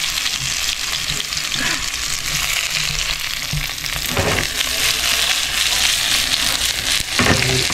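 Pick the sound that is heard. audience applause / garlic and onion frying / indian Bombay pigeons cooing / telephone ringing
garlic and onion frying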